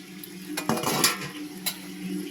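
A metal spoon clinks and scrapes against a pot while meat with biryani spices is stirred in a village home kitchen. Several close, sharp knocks stand out over a steady background, with no talking.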